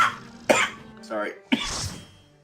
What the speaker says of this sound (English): I'll try to keep the coughing to a minimum